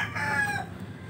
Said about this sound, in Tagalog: Ganda yan kasi legit na mga manok.